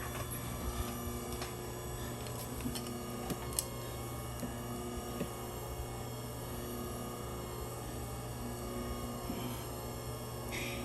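A Philips pasta machine churns and extrudes pasta dough, a steady mechanical motor hum with faint ticking and clicking throughout, running alone at moderate level.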